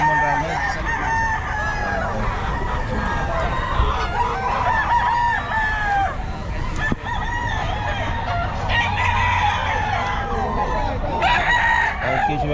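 Lemon round head gamefowl roosters and other chickens crow and cluck at a busy pet market in Bocaue, several calls overlapping near and farther off, with people talking among them.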